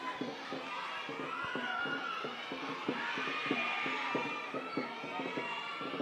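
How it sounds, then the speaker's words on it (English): Young kids in a crowd cheer loudly for the Thailand team at the IDBF World Dragon Boat Championship race in Thailand, a steady roar of shouting voices with a rhythmic chanting beat running throughout. "the young kids in the crowd cheering loud for the Thailand team"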